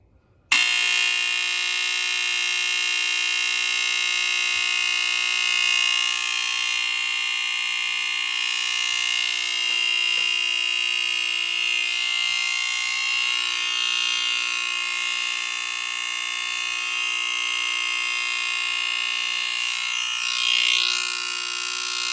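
Two smoke alarms, a FirstGuard FG-1 and an FX1020, shriek together in a continuous, loud, piercing high-pitched tone that holds steady for a long stretch with no talking.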